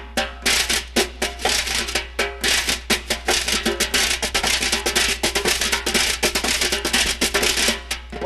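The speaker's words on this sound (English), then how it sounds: "Lay the brush down in a vertical, and then you sweep your hand across it horizontally." Wire drum brushes swept across a snare drum in traditional grip, making a continuous loud swishing wash with rhythmic pulses of accent strokes, close up and without talk.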